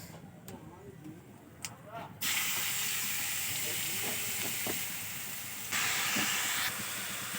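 Sliced radish hits hot oil tempered with nigella seeds and dry red chillies, bursting into a loud, close, broad sizzle that holds steady and swells again midway, after a few light clinks.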